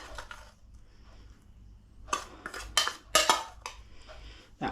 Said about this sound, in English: I'm just going to mix in the sugar